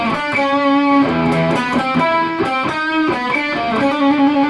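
Distorted electric guitar through a Marshall 1-watt amp head, JCM800-style or DSL, plays a thrash metal riff: steady chugging palm-muted chords with rhythmic accents, loud and continuous, no voices.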